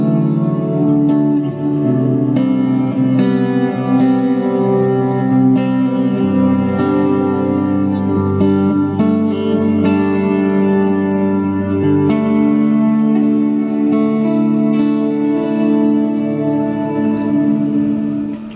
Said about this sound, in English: so that's the sound of the orange amps with the Eventide H9